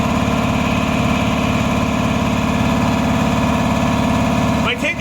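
Worn-out air compressor running up to about 100 psi, a loud steady motor drone with rhythmic pulsing throughout and a brief clatter near the end.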